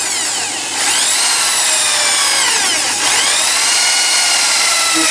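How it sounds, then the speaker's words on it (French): A power drill bores 10 mm holes in ash wood with a loud, close, high whine that dips briefly near the start and again midway as the bit bites, then holds steady. No talking. "Donc je perce à 10 mm."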